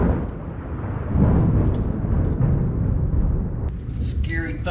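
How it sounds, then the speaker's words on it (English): Thunder from a thunderstorm heard as a long, deep rumbling roll that swells and fades over several seconds, with a short sharp knock and faint voices near the end. "Scary thunderstorm."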